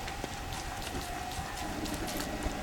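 Steady rain hisses in a video game, a dense even wash of falling drops with occasional louder patters, close and continuous with no voices over it.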